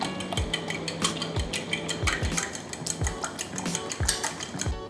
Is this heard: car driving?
no